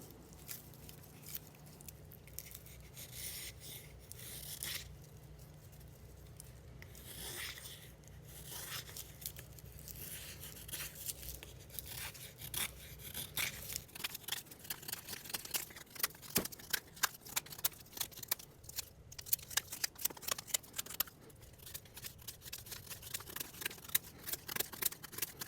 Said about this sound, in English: Start out with light shavings and start to put some pressure behind the cut.